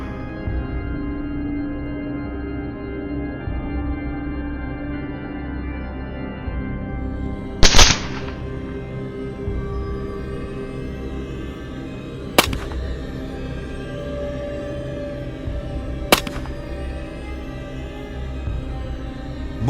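Rifle shots fired at wild boar on farmland at night: three sharp, loud cracks spaced several seconds apart over a steady low rumble, with no talking.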